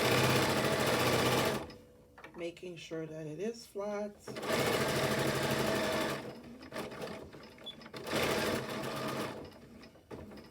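A sewing machine stitches elastic onto a fabric face mask in short whirring runs that stop and start, with a person talking between and over the bursts.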